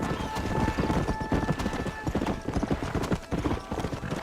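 Horse hooves clip-clop at a steady riding pace in the Red Dead Redemption video game, a rapid, close rhythm of hoofbeats with other game sounds around it.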